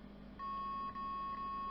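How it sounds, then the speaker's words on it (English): An electronic device gives off a steady, continuous high-pitched beep that holds for over a second, clean and fairly close, with a faint background hum and no voices. "Beep, beep, beep."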